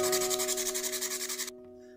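Sandpaper rubbed briskly back and forth over a metal nail, a steady rhythmic scratching of about a dozen strokes, close and moderately loud, stopping abruptly before a short quiet tail.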